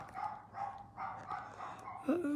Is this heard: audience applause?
no